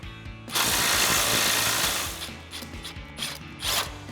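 An impact wrench runs out a bolt on a Ram 2500 front track bar, giving a loud, sustained rattling hammer burst for about two seconds, then shorter bursts and a final squeeze.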